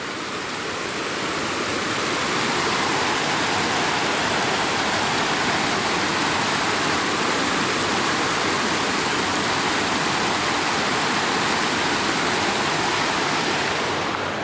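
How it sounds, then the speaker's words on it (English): A creek on a mountain trail flows steadily and loudly throughout, a constant broad splashing roar close by with no pauses or speech. "Just because there's a nice creek here."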